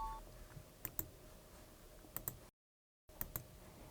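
Mouse button clicks in accounting software, sharp, quiet and close, coming in pairs and short bursts against a near-silent background with a brief gap of silence.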